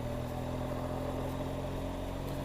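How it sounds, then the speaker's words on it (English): A 2013 BMW R1200 GS motorcycle engine on a test ride gives a steady low rumble with an even hum and no change in pitch. "Nice low rumble to the engine."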